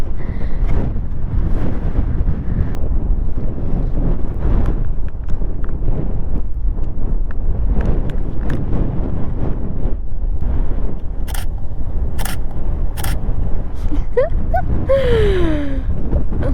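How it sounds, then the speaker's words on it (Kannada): Strong wind buffets the microphone in a constant loud rumble on Baradi Betta peak, with faint voices and a few brief clicks near the end. "ಸಿಕ್ಕಾಪಟ್ಟೆ ಗಾಳಿ ನಾನು ಮಾತಾಡ್ತಿರೋದು ಕೇಳಿಸ್ತಿಲ್ಲ ಅನ್ಸುತ್ತೆ"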